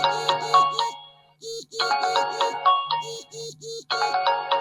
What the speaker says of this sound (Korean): 이렇게 QCI GT2에서도 전화 벨소리가 울리는데요